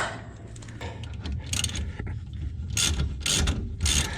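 A ratchet wrench clicks in quick, uneven bursts while threading a bolt on a BMW E36, close and fairly quiet, with metallic rattles between the pulls.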